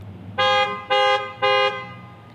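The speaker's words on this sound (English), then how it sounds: "So it has a strong horn." Three loud, evenly spaced car horn honks from a 2018 Dodge Charger SXT's panic button, each about a quarter second long, sounding close with a low engine hum beneath.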